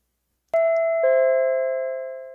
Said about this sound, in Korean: 잠결에 초인종 소리가 들리는 것 같았는데 졸려서 일어나지 않고 그냥 잤다.